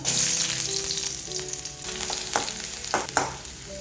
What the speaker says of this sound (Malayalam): കുറച്ച് വെളിച്ചെണ്ണ എടുക്കാം. കുറച്ച് കടുക് ഇട്ട് കൊടുക്കാം. ചെറിയ ഉള്ളി അരിഞ്ഞതിട്ട് കൊടുക്കാം.